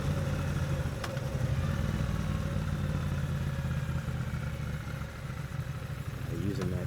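Motorcycle engine using engine braking to slow the bike at a turnaround spot, a steady low rumbling drone with clattering texture heard close throughout, no talk over it.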